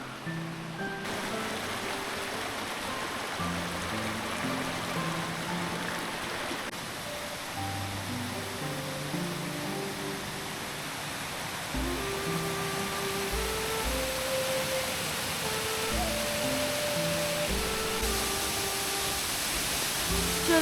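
Pearl Lotus Waterfall in Shennongjia, 20 metres wide and 15 metres high and split by rock into several sections, gives a steady soft rushing hiss under gentle background music.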